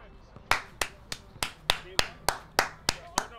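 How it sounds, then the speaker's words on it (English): A lone person claps slowly and deliberately, about ten crisp, evenly spaced claps close to the listener, with quiet gaps between each one. "Round of a mother effing applause, bro."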